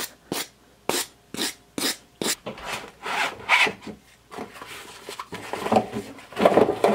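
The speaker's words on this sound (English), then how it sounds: "So the file card, you just take it and brush your file." A file card brushes metal filings out of the teeth of a file, giving repeated short scratchy rasping strokes, close and fairly loud, settling into a steady rhythm before quicker, denser scrubbing near the end.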